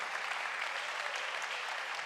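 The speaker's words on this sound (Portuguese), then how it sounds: "Glória a Deus, pode aplaudir a Jesus." Church congregation applauding in worship, a dense, continuous burst of many hands clapping at an even level.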